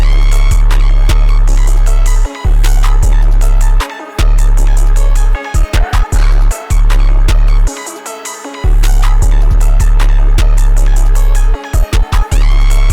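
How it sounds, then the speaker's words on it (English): Loud, dense trap beat made in FL Studio, with heavy sustained bass, a siren, a bell and breath impact effects, the full mix repeatedly dropping out for brief accented stops before slamming back in. "We're going to put a siren at the start. Then it's going to be followed by a bell at the end of the 4."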